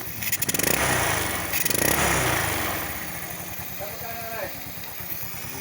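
Motorcycle engine idling smoothly after carburetor tuning, a steady low putter that stays close and fairly loud, with brief revving swells early on.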